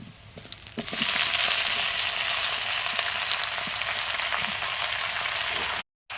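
Chopped Malabar spinach and pumpkin drop into plenty of hot oil with onion and set off a loud, steady sizzle right up close. A faint scrape of stirring runs through it, and the sound cuts out briefly near the end.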